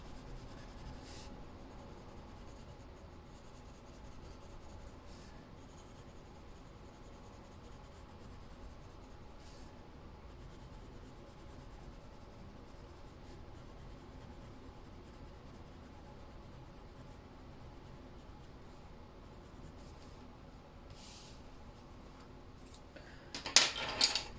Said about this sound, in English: I'm going to blend and burnish everything. So adding a little bit more pressure here, gradually building up to a full amount of pressure, enough to burnish the page.